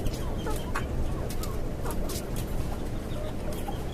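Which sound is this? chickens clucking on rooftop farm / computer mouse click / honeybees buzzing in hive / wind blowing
chickens clucking on rooftop farm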